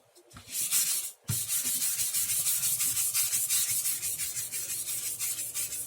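A luthier sands wood by rubbing a pumice stone over sandpaper while applying shellac, giving a steady, rhythmic scratchy rasp of close back-and-forth strokes after a brief pause near the start, with no talking.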